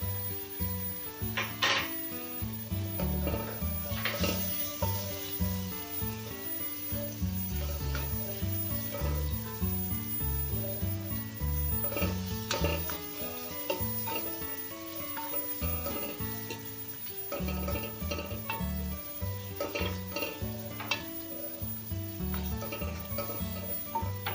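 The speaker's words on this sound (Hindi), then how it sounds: "अब इसमें चमचा चलाएंगे" A spoon stirs beef biryani masala in a pot, producing a continuous sizzle with repeated scraping and wooden knocking against the pot at close range over about 24 seconds.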